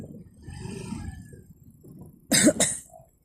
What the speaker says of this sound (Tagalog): inuubo pa ako eh